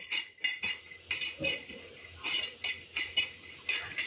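Peanuts dry roasting on a hot tawa for a spicy bitter gourd dish, giving repeated light rattling clinks and scrapes in uneven bursts, close and moderately loud with no talking.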